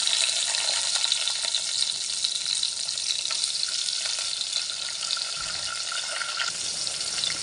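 Chopped tomatoes hit hot oil with browned garlic for a bean vegetable dish, giving a strong, continuous hissing sizzle up close that stays even and unbroken, with no voices over it.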